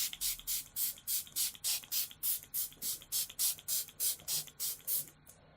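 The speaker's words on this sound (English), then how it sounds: "I'm going to take setting spray, and I have the Smashbox primer water" Smashbox primer water setting spray mists onto a face in about fifteen quick, close, even pumps, each a short soft hiss in steady rhythm with nothing else heard.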